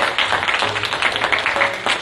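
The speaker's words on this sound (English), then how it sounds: "give them a round of applause" A church congregation gives a brief burst of applause at a Father's Day service, with dense, steady clapping that fills the room.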